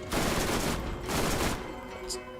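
Serpens gun firing in Borderlands, two bursts of rapid shots close by at moderate loudness, followed by a short metallic chime.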